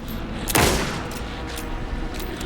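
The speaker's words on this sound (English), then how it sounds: "Anderson, pin him down with gunfire for me to get the light on him." Gunfire in the video game Alan Wake 2: one loud, sharp burst near the start, followed by fainter scattered shots against a dense, rumbling background.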